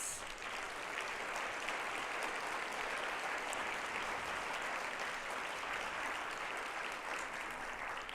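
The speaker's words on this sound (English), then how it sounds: "I want you to give yourself a round of applause" Sustained audience applause at a conference plenary session fills the room for about eight seconds, a dense, even wash of clapping that holds steady throughout without voices breaking through.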